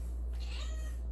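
A house cat gives a single drawn-out, strained meow indoors during a cross-stitch session, heard alone over a steady low hum.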